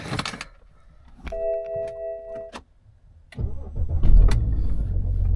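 A car engine cranks after a short electronic chime and a few clicks, then catches and settles into a steady idle that runs close by to the end.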